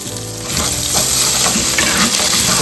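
Mustard seeds, green chili and ginger fry in hot oil in a pan, a loud steady sizzle that swells after the first half second, with crackling seed pops and occasional stirring scrapes throughout.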